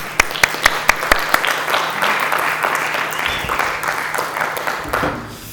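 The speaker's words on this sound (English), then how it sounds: "So if everyone could join me in giving Nick a big round of applause." An audience applauds a speaker at a craft conference, opening with a few sharp individual claps that swell into sustained clapping from a crowd, then fade near the end.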